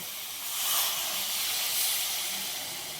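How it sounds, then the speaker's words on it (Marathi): Water poured onto hot cauliflower curry in a pan sends up a broad, steady steamy hiss that swells slightly and holds, close and moderately loud with no voices. "आता टाकू आपण याच्यात थोडंसं पाणी."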